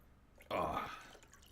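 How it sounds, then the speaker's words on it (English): Water pours briefly into a container, a short close splashing stream that starts abruptly and fades within about a second. "Just gonna pour some water."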